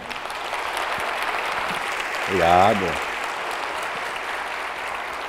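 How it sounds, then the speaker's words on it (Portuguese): An audience at a talk applauds a fellow member in a steady, dense round of clapping, and a voice briefly speaks over it midway before the clapping continues. "Uma salva de palmas para o nosso irmão."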